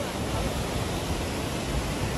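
Waterfall in Mustang near Tatopani, a dense, roaring wash of falling and spraying water, close and loud without a break.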